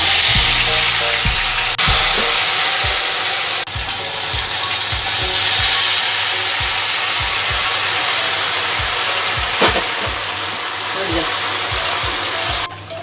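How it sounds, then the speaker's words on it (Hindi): Ghevar batter poured into hot ghee in a pot over a high gas flame, a loud continuous frying sizzle with repeated soft plops and clicks as batter goes in, alongside a voice talking. "बीच में से गैप करते रहें, गैस की फ्लेम तेज रखें और इस तरह से हम अपना बैटर डालते जाएंगे।"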